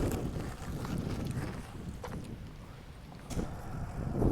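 Steady wind buffets the microphone while riding a bicycle on a road stage in Norway, a broad low rumble with occasional stronger gusts rising near the end.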